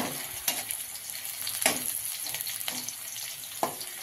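Green chillies and potatoes fry steadily in a pan, a close, even sizzle broken by several sharp crackles and clinks from stirring.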